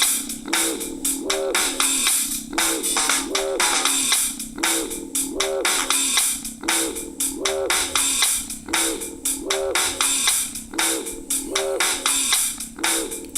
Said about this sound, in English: is a backing track that sounds like this